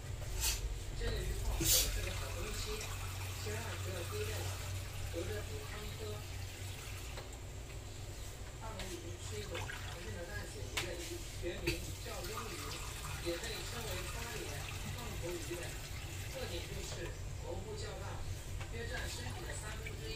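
Tap water runs steadily into a cooking pan to make soup, a continuous even gushing and splashing that lasts throughout at moderate loudness.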